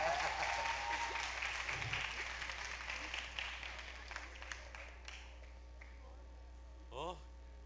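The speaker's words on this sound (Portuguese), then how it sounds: "Aplausos." Audience applause at a gathering, a broad wash of clapping that gradually fades over several seconds, with a few voices and scattered sounds near the end.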